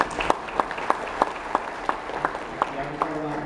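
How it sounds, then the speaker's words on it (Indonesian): An audience at a hotel socialization event applauds a speaker, with fairly sparse, distinct claps ringing out in a steady rhythm and a faint voice or murmur underneath. "kita berikan tepuk tangan."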